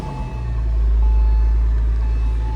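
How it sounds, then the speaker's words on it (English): A Porsche Carrera Cabriolet engine with an aftermarket Fister exhaust idles as a steady, loud, low rumble with a deep throaty drone inside a storage unit, and no talk is heard. "the exhaust looks totally stock, but we believe it's been fistered because it sounds more aggressive than it normally would"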